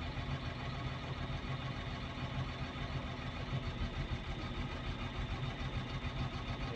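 A 950H shovel's diesel engine with low power runs continuously during injector testing, a steady droning low rumble at a constant pace, no voices, fairly quiet overall.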